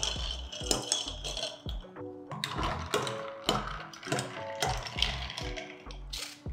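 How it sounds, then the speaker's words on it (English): Bar spoon clinking and rattling ice cubes in a glass while stirring a Tom Collins cocktail, a quick run of close, bright metallic taps and clinks with no talking. "With a bar spoon, we're gonna mix it up a little bit."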